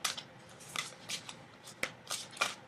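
Tarot cards being shuffled by hand, the stiff cards knocking against each other in a quick series of close, crisp riffling bursts at a moderate volume.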